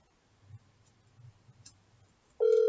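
A phone call sounds over a speakerphone. After some quiet handling noise, a loud, steady electronic call tone suddenly begins near the end and holds.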